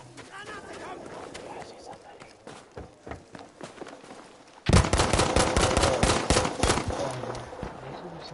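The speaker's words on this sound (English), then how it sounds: "I'm killing with the pistol now." Gunfire rings out in the video game Battlefield 5. At first scattered sharp shots and footstep-like taps sound fairly quietly, then a loud, rapid barrage of shots begins abruptly and continues to the end.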